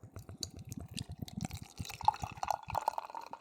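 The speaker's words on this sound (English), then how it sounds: "Let's give it a pour." Beer poured into a glass up close, a gurgling, glugging flow with bubbly dripping and fizz that grows livelier toward the end, no voices.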